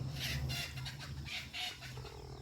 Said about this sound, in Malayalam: ഇത് നല്ല അടിപൊളി കോഴിയാണ് കേട്ടോ